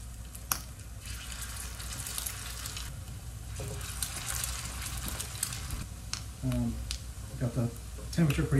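Homemade crab cakes fry in very hot oil, giving a steady broad sizzle with scattered spitting crackles. Voices and kitchen clatter come in toward the end.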